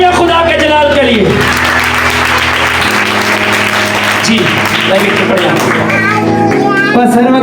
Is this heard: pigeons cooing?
no